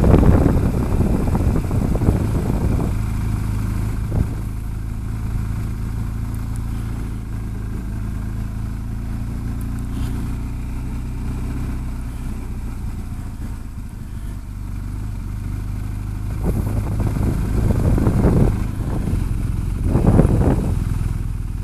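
A motorcycle on Motoz Tractionator adventure tires rides steadily, a loud continuous engine drone with wind rumble close to the rider, swelling near the end as the throttle opens.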